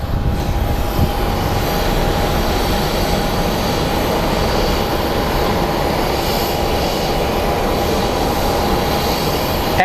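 Airliner on flight 2206 to Long Beach at Phoenix Sky Harbor airport, giving a steady, loud, broadband engine roar that holds evenly throughout with no clear rise or fade and no voices.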